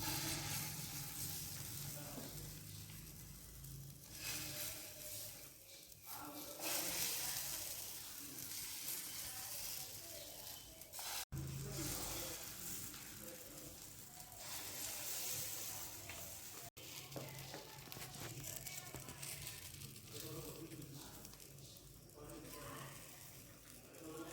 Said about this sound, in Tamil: இப்போ நம்ம ரெடி பண்ணி வச்ச முட்டையை இதில் ஊற்றிடலாம்